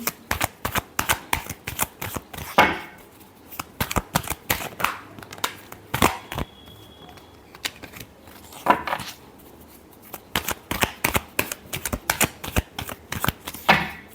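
A deck of tarot cards is shuffled over and over in quick, crisp flicking bursts, close to the listener, with a few louder riffles and short pauses between rounds and no speech.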